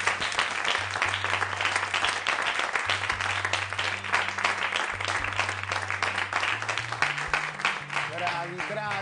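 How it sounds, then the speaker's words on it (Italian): Studio audience applause on an Italian TV cooking competition, dense clapping running throughout with a steady musical tone underneath and voices talking over it. "un applauso"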